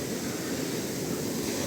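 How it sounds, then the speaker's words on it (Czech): Ocean waves break on the Portuguese coast, a steady, dense roar of surf and washing water close by, with no voices. "ale ty vlny jsou jako hardkorářský."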